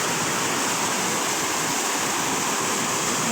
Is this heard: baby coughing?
no